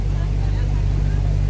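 A motorboat engine drones steadily on a river in Kalimantan, Indonesia, a close, loud, continuous low rumble with wind and water hiss above it.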